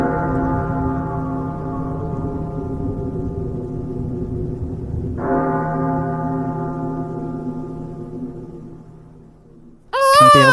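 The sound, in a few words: bells ringing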